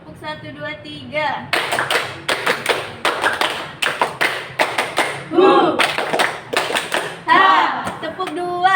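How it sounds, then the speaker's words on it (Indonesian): Schoolchildren in a group counseling game clap repeatedly in counted rounds, bursts of loud, ragged handclaps close by, with an adult voice and some laughter between the sets. "Tepuk 1, 2, 3."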